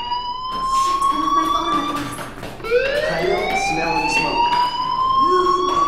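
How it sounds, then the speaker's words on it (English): In the video game Life is Strange, a fire alarm wails with rising and falling siren tones that sweep up and restart, loud and continuous, with faint talk in the background. "do you hear that fire alarm? That means you should be outside."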